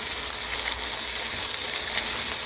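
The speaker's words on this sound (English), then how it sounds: "Some onion to cook in there, right?" Mushrooms and onion frying in a pan next to pork chops, giving a steady, even sizzle that stays close and constant throughout with no voices over it.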